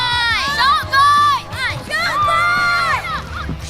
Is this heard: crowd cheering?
yes